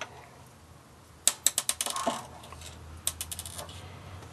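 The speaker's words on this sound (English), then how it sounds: "So, tightening these down, one for that side, and then one for the opposite." Bolts being tightened on a Mean Well SE-1000-24 power supply, heard as two close bursts of quick metallic ratcheting clicks separated by a short pause.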